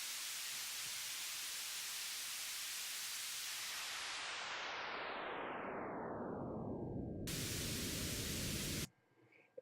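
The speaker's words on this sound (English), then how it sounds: "if you did it this way, then it's going to be just a constant white noise tone" A synthesized wash of white noise hisses steadily, then sweeps smoothly downward in pitch before cutting off abruptly into near silence.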